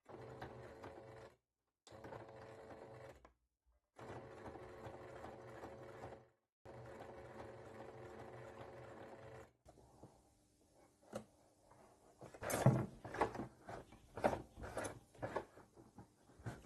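A sewing machine stitches bias binding around a corner in four steady runs broken by short pauses, then stops; light clicks and handling knocks follow.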